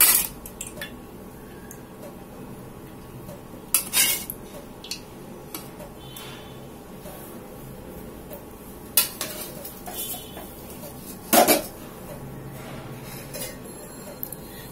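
A spoon stirs melted date-palm jaggery into a cup of tea, giving soft scraping swirls broken by a few sharp clinks against the cup.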